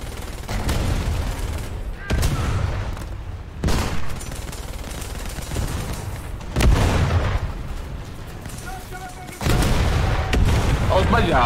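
Artillery fire in the tank game War Thunder during a German premium tank match: repeated heavy booms roughly every two seconds, loud and close, each followed by rumbling decay, with no talking.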